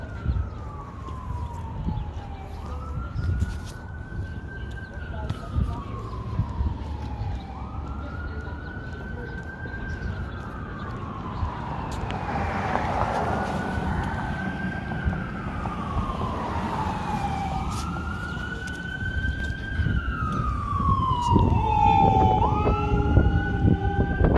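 A police siren wails, rising and falling in repeated slow sweeps, with traffic rumbling underneath and growing louder toward the end.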